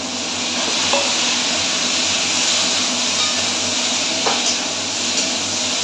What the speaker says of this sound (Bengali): এর মধ্যে আমি এখন চিংড়ি মাছগুলো দিয়ে দেবো।